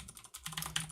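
Rapid, close clicking of a computer keyboard as someone types code, a quick burst of light keystrokes with no talking.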